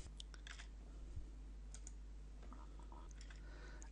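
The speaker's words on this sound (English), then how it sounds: "So let's click this button." A computer mouse and keyboard are used at a desk, producing a scatter of soft, faint clicks and taps spread irregularly over a quiet, hum-filled background.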